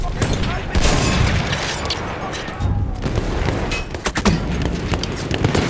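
Grenade blasts roll through a Battlefield 1 Gallipoli battle at Cape Helles, heavy booms and crackling gunfire piling up in a loud, dense barrage, with shouted voices mixed into the chaos.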